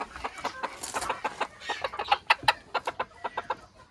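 A Mille Fleur rooster and hens cluck close by in a rapid series of short, sharp calls, with a few louder squawks near the middle, and no speech over them.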